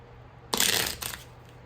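A short burst of card shuffling, a papery riffle lasting about half a second, close and fairly quiet, then a brief flutter before fading.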